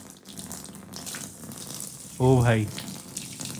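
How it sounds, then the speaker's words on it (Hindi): Water pours from a bowl onto a bed sheet in one short, close gush, with a voice exclaiming over steady background noise. "ये देखो बाउल में इतना सारा पानी है और हम डालने वाले हैं"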